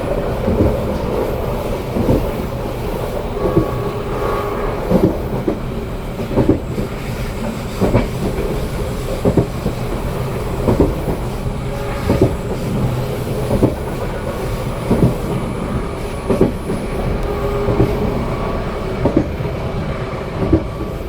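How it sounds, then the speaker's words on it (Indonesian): Pandalungan passenger train running along rails, a steady loud rumble with rhythmic clickety-clack wheel beats recurring every second or two, close by with no voices. "saat ini kereta api Pandalungan melintas langsung stasiun"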